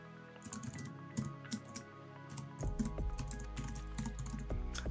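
Rapid typing on a computer keyboard as an email address is entered, with quick irregular key clicks close by and a brief louder burst of keystrokes partway through, no talking.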